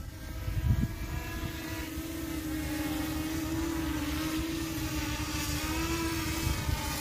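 HS720E quadcopter drone with floating water landing gear hovering outdoors in wind, a steady high motor whine over rumbling wind noise, fairly loud and continuous throughout.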